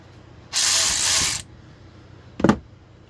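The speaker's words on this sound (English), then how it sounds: "The ratchets that I use, the Dewalt 12 volts, the 3/8 inch" Dewalt 12V 3/8 inch power ratchet giving a loud whirring burst of just under a second, followed after a short pause by a briefer, sharper second pulse.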